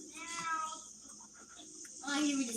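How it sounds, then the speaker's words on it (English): A cat meows in drawn-out, wavering calls at the start and again near the end, moderately loud over steady background hiss, with no clear talking. "I hear this cat."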